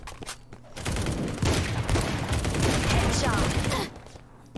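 Rapid gunfire from the shooter video game Hyper Front, loud bursts packed close together for several seconds, with quieter sounds before and after and no voice over it.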